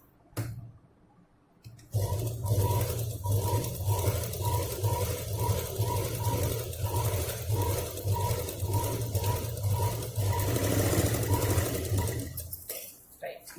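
A sewing machine runs a row of stitches on a cloth drawstring handbag, its motor humming with a quick, even, repetitive needle clatter for about ten seconds before it stops, close up.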